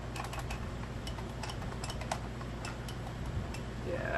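Clicky buttons on a Sega Genesis all-in-one console are pressed in a quick, uneven run of sharp, close plastic clicks over a faint steady background hiss.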